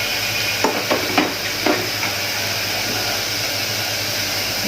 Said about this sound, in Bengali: দিয়ে এটাকে একটু লাল করে নেব ভেজে